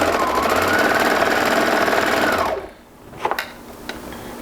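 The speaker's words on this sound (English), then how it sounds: "And then I'm going to sew until the next clip, making sure all 3 edges are aligned." Close, loud sewing machine chatter stitches knit T-shirt fabric at a steady pace, then stops, leaving a couple of light clicks and handling sounds.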